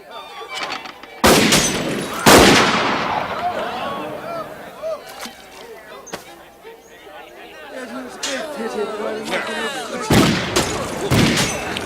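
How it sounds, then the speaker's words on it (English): Shotgun blasts ring out at an old-time trick shooting exhibition, a few loud reports scattered across a noisy crowd as people chatter and call out throughout. "At nearly 100 shots, Windhoven has missed 3, and Miss Oakley has yet to miss 1"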